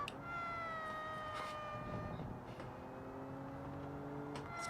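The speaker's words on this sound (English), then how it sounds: "it makes glorious cat noises when you, like, lift off" A car in the game Automation lets off the throttle and its engine gives a wavering, cat-like whine, several sliding tonal notes over a low rumble, moderately quiet and steady throughout.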